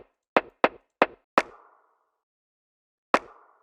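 Five sharp woody rim clicks, four in a quick uneven burst and one more after a pause, each with a short ringing tail.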